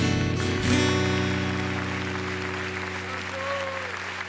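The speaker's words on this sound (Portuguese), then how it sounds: "Forte aplauso a Ele." Loud, sustained applause from a church congregation during a Brazilian worship night, filling the whole clip with steady clapping over lingering music.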